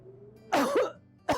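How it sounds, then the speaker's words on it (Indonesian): Two deliberate coughs to clear mucus as part of a breathing exercise: a strong, rough cough with a short wheezy tail, then a second cough starting just after. Both are close and loud, with quiet breathing before them. "Usahakan batuk itu 2 kali"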